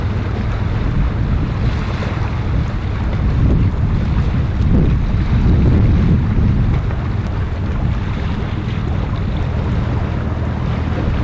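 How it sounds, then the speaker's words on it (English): The ferry Thames Kestrel on the Tilbury to Gravesend crossing, a steady low rumble of engine and water with strong wind buffeting, rising slightly in the middle and without talk. "Again see THAMES KESTREL operating the Tilbury to Gravesend ferry."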